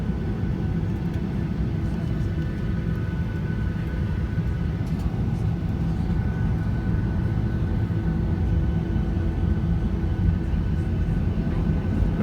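A Norwegian Boeing 737-8JP with winglets taxis onto the runway at Stockholm Arlanda, heard from inside the cabin as a loud, steady engine roar and rumble that continues unbroken throughout.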